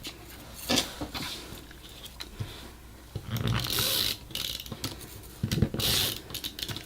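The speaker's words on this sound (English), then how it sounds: "I'm going to use my Tombow permanent tape thingamajiggy, this little guy. Tombow permanent adhesive tape." A Tombow permanent adhesive tape runner rolls across paper in short close ratcheting bursts, several quick clicking and peeling strokes separated by brief pauses.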